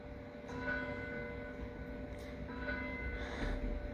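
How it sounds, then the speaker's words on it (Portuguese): A church bell rings for the eleven o'clock hour, sounding as a few distant, repeated strokes over a steady background hum. "Esse aqui é o sino das 11."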